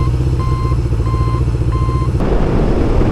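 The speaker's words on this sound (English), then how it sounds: "still got that turn signal chirper on here" Turn signal chirper on a Honda CB750 motorcycle gives three evenly spaced, loud, steady beeps over an idling engine rumble, nearby and without speech.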